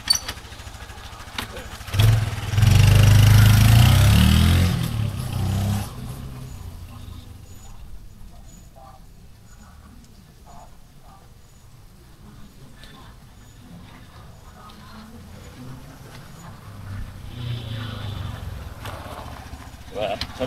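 A Yamaha PG-1 motorcycle revs hard in a loud, close burst, then its engine settles to a quieter, steady running drone that fades and returns during an urban ride.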